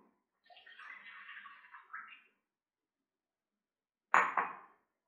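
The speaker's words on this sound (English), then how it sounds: "we'll put the milk." Milk pours into a bowl for ube cheese pandesal dough in two separate splashy streams, a longer pour followed after a pause by a short burst, close and quiet with no talking.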